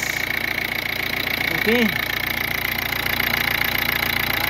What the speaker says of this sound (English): Very silent engine.